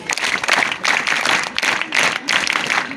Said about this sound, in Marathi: आपण सगळेजण टाळ्या वाजून त्याला अनुमोदन देऊया.